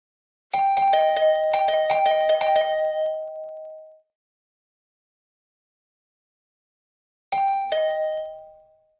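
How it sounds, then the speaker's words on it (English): A doorbell in The Hundred Line -Last Defense Academy- video game rings over and over, a fast burst of bright chimes for a few seconds, then silence, then another short ringing burst. "The usual morning announcement was drowned out by the sound of my doorbell ringing over and over."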